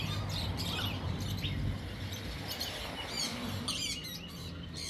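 Caged birds for sale at a wildlife market chirp and tweet continuously, several calls overlapping, close and fairly loud over a busy background hum.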